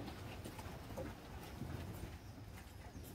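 Horses' hooves clip-clop faintly and continuously amid steady outdoor noise while cattle are being sorted on a farm.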